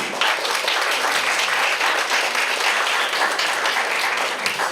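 A theatre audience claps loudly and continuously for the performers Oleksandra and Yuriy at a tango-themed stage show, a dense, even wash of many hands that fills the whole stretch without pause.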